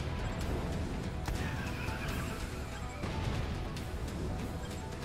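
Horse neighing in the Attack on Titan video game, a whinny over steady clip-clop hooves and busy game ambience, with no talk.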